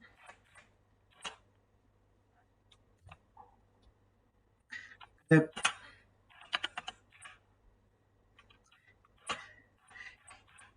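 Computer keyboard typing while entering Bash shell commands: scattered close, crisp key clicks in short irregular bursts, with several louder keystrokes and quiet gaps between them.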